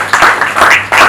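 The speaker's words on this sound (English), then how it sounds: "Please help me clap for my supervisor." Crowd clapping for a supervisor at a tourism media roundtable, a short loud burst of applause swelling in uneven waves, close and dense.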